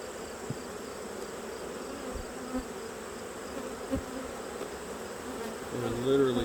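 Honeybees in a crowded autumn hive preparing to swarm hum in a steady, close, dense buzz, with a few brief louder tones and a rising swell near the end.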